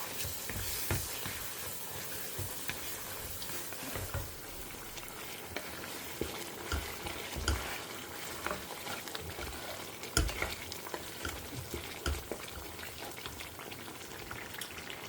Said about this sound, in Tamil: இதை நம்ம வதக்கிக்கலாம்